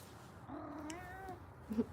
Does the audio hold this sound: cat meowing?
yes